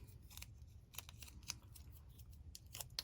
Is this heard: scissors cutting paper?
yes